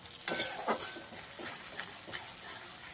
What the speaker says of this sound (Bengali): মশলা থেকে যতক্ষণ পর্যন্ত না তেলটা ছেড়ে যাচ্ছে মশলাটা ভালোভাবে কষিয়ে নিতে হবে।